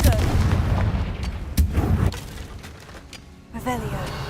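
A Confringo blast spell in a Harry Potter video game explodes in a few sharp, booming bursts, loud and close, while a voice speaks over the game.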